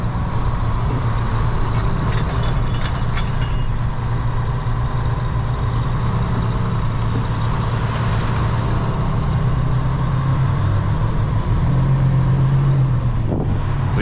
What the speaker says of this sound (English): Trucks going back that way.